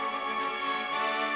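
Layered orchestral chord from the Simpsons Stonecutters theme, with two French horns, violas and a cello blending in a sustained, softly bright harmony with no talking over it.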